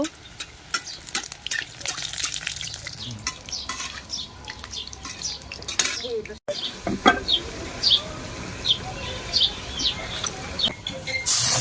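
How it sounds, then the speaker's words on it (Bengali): Dahlia-shaped pakon pitha cakes frying in oil in a pan, a continuous sizzle with scraping and stirring clicks of a utensil throughout. "তো দেখো পিঠাগুলো ভাজা করে নিচ্ছি, আর উপর থেকে একটু তেল দিয়ে দেব।"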